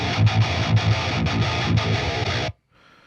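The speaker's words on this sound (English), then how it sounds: "This is a pretty high gain amp tone" A high-gain electric guitar through a Neural DSP Fortin Nameless Suite amp tone chugs in palm-muted, rhythmic bursts, loud, aggressive and distorted, then cuts off abruptly into near silence.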